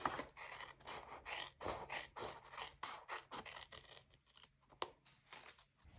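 Scissors trim the edges off paper for a decorative planner page, a quick sequence of close, soft snipping and rustling cuts with nobody speaking.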